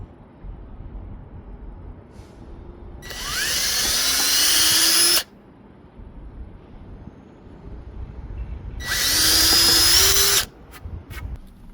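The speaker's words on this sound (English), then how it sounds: "And go ahead and drill them." A power drill whirs loudly in two separate bursts of about two seconds each, drilling holes in a board for a van ceiling, its pitch rising as it bites, with quiet pauses between.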